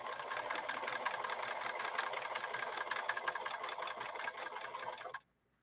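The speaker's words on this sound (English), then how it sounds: "I do have the speed down on the machine right now, so we're not racing." A 1964 Montgomery Ward sewing machine running a straight stitch at reduced speed: a fast, even mechanical chatter that holds steady, then stops abruptly near the end.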